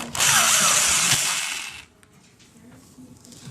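A power driver whirs loudly for over a second while removing the bake element mounting screws inside an LG convection oven, then stops, leaving quiet clicks and handling noise.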